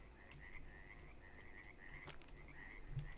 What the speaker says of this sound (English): Isn't this a cool little frog noise?